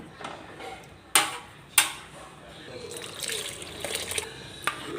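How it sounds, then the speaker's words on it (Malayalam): Milk poured into a pot of simmering palada payasam, a soft liquid pour under a voice, with two sharp clinks partway through. "ഇനി നമുക്ക് ഒരു നൂറ് പാലും കൂടെ ഞാൻ ഒഴിക്കുകയാണ്"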